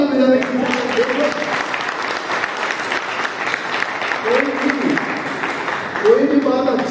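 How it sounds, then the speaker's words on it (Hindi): Seminar audience in Balrampur claps together in a loud, dense and sustained burst of applause, while a voice talks intermittently over the clapping. "बजा दो ताली बजाने की"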